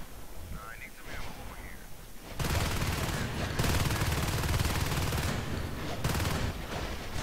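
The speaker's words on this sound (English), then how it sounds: "Shotgun" Shotgun fire in a team video game scrim match, starting after a quieter stretch with faint voices: loud, dense bursts of blasts that continue almost without a break, with brief dips in between.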